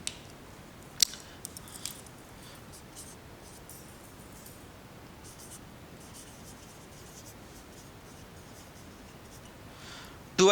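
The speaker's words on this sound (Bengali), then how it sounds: "আমি একটা উদাহরণ লিখছি" Pen writing an example by hand on paper, soft faint scratching strokes with a few small taps near the start, quiet and close throughout.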